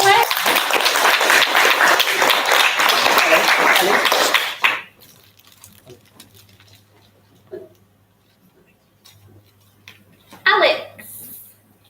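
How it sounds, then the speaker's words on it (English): Loud audience clapping at a Year 6 school leavers' event fills the first few seconds, then stops abruptly, leaving a quiet room with faint murmurs and a short burst of noise near the end. "Give a clap, Ellie"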